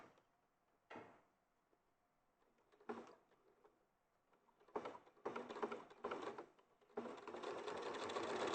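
A sewing machine runs in several bursts while top stitching fabric, using the machine foot as a guide, with short quiet gaps between runs and longer, steadier stitching toward the end.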